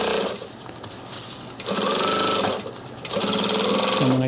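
A sewing machine stitches backpack panels together in three loud, rapid bursts, with short pauses between runs and a brief back tack near the end.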